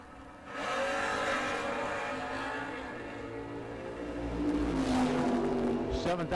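Door-class drag race cars launch and roar down the strip, a loud sustained engine drone that swells toward the end, with an announcer talking over it.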